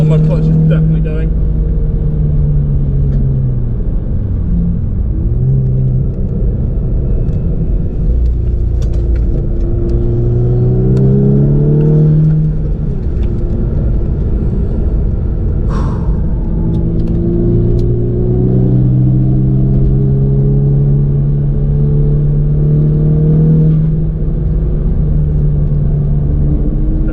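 A VW Scirocco R on track at Castle Combe with a worn, slipping clutch: steady engine drone from inside the car that rises and falls through gear changes and braking, with a driver talking over it throughout.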